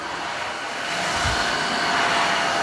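A Tineco One S5 combo wet dry vacuum mops a floor with a steady whooshing motor and suction hiss, constant and close, swelling slightly louder midway.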